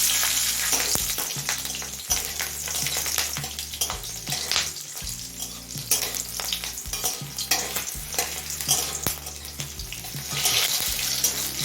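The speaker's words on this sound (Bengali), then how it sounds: "তেলটা হাই ফ্লেমে ধোয়া ওঠা গরম করে নিয়েছি এবার ফোড়নে দিচ্ছি দুটো তেজপাতা আর দিচ্ছি চারটে চেরা কাঁচা লঙ্কা" Two bay leaves and four slit green chillies crackle and sizzle loudly in smoke-hot oil over a high flame, a steady close frying hiss with scattered pops and spatters, with no voices.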